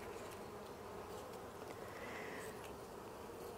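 Honeybees at an open hive during a varroa treatment hum in a dense, steady, close buzz that holds at an even level from start to finish with no voices.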